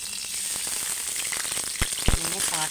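Ginger paste goes into hot oil in a wok, giving a continuous close sizzle with a few sharper pops and a light clatter near the end.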